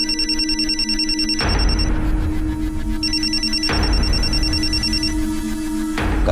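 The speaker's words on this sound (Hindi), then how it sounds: "और उसकी मोबाइल की रिंग भी" A mobile phone ringtone plays loud and close in two long electronic bursts separated by a short gap, over a busy low background hum.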